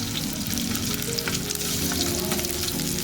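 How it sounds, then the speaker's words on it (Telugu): Ginger fries in hot oil for fish pickle, giving a loud, dense, continuous sizzle and crackle close up, with no talking. "ముందుగా అల్లం వేసుకుందాం."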